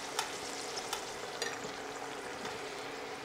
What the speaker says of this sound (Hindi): और दोनों साइड से इसको पलट पलट के लाइट गोल्डन कलर आने तक इसको फ्राई कर लेते हैं